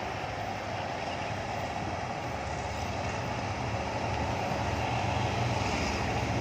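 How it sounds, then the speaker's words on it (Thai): A deep, steady diesel engine rumble swelling slightly louder toward the end as the locomotive accelerates out of Chiang Mai railway station, with no voices. "เร่งเครื่องมาแล้วครับ"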